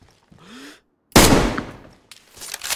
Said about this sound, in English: He shot him.